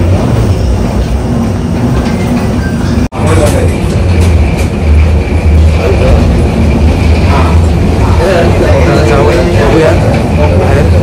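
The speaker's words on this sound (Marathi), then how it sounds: "मेट्रोमध्ये आलेलो आहे" Interior of a metro train in motion, with steady loud rumbling and rail noise throughout, briefly cut near the start, while people talk in the background.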